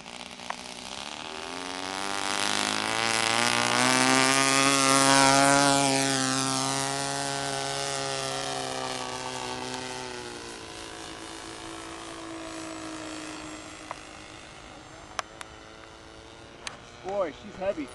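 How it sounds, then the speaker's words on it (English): A Piper Cub airplane takes off on its maiden flight, the engine drone rising in pitch and loudness as it passes close, then fading as it climbs away, with a few clicks and voices near the end. "Taking off, Piper Cub,"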